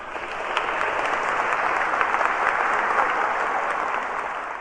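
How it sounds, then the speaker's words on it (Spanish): Sustained applause from a Catholic church congregation, steady dense clapping filling the space at a fairly loud level with no voices over it. "Démosle un aplauso al Señor"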